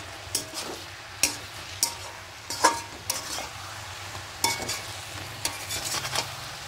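Spinach being stirred in a covered cooking pot as it wilts in its own released water, giving a series of sharp spoon scrapes and clacks against the pot over a soft, steady sizzle, close and clear with no voices.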